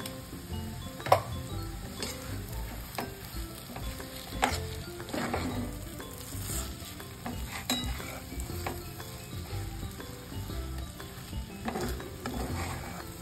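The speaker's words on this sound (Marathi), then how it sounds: "थोडंसं 1 चमचा वरून तूप सोडायचं. हे घरचं तूप आहे." Homemade ghee sizzles in semolina sheera in a pan while a spoon stirs it, a continuous soft frying hiss punctuated by scraping clinks of the spoon against the pan.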